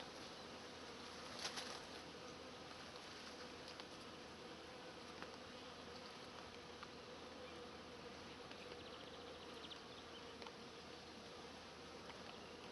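A swarm of honeybees humming inside a bait trap hung about three meters up in a pear tree, a dense steady buzz outdoors with occasional faint birdsong, no talking.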